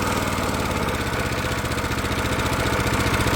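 A homemade small engine idles on a rubber mount, giving a steady, loud, continuous low-pitched thrum with a fast, even rhythmic pulse throughout.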